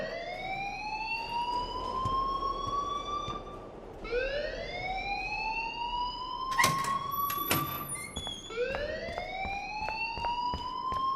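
School alarm in Life is Strange, rising electronic whoops repeating in long sweeps, loud and continuous with brief sharp clatters over it, no talking.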